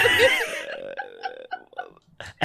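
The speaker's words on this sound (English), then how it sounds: "I'm getting heartburn and burping." A person burping: a loud, croaking belch opening strongly then trailing off into a few smaller voiced gulps and a brief final burst.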